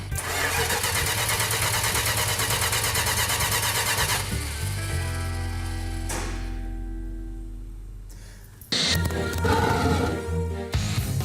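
A 1968 Dodge Charger R/T engine cranks without firing, a loud sustained grinding churn from the starter that slows and fades, then a harsher burst of mechanical noise, with no talking.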